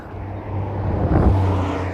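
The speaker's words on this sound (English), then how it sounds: "traffic noises being maybe not so calming, one might say" Steady road traffic rumble with a low engine drone, one vehicle swelling nearer around the middle before easing back into a continuous wash of roadway noise.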